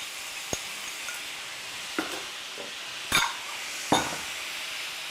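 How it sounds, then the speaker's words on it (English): Tempeh and egg noodles with sauce stirred in a sizzling pan: a steady fry hiss broken by a few scraping, clacking utensil strokes against the pan, close up and with no talking. "Add the noodles, mix it."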